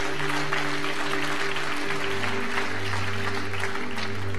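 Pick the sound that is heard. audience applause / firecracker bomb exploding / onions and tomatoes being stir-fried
audience applause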